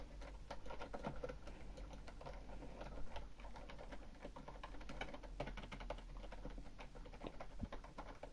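Rapid, steady clicking of computer keyboard keys being typed on during a PC game session, faint and continuous with a low hum beneath, no talking.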